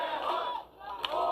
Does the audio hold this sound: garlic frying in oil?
no